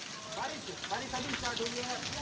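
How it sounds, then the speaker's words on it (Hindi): Rain falling outside, a soft steady patter and hiss of drops on surfaces, fairly faint, with people talking over it. "ये देखो सर जी बारिश कब स्टार्ट हुई सर जी?"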